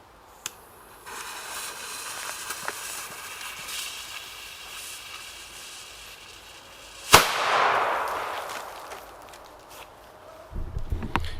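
A single sharp bang from a German firecracker cracks out after a stretch of quiet outdoor ambience, followed by a short decaying rumble, with faint rustling afterward.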